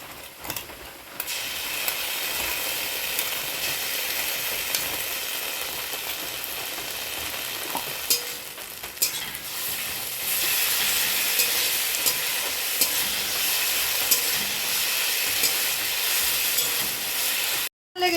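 Sliced onion already fried brown in a pan, then a ground paste of ginger, cumin, green chili and garlic added, for a village pomfret fish curry; steady loud sizzling and frying with stirring runs throughout, rising brighter partway and cutting off at the end.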